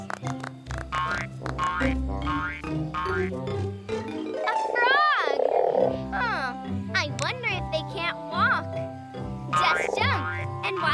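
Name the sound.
frog croak imitation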